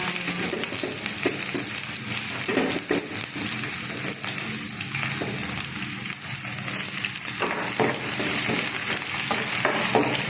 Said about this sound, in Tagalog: Para po ay magisa ng sibuyas at bawang